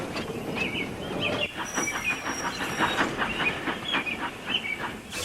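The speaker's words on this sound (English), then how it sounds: "Donald brought the coaches for the first train to the platform." A steam engine draws passenger coaches into a station platform, the train's rumble carrying a steady rhythmic clickety-clack of wheels over rail joints with soft hissing and faint high squeals throughout.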